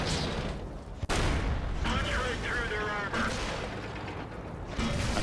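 Tank cannon fire from a T-44 battle on the Wide Park map in World of Tanks booms over a constant heavy engine rumble, with a sharp shot near the start and muffled impacts after, loud and close throughout.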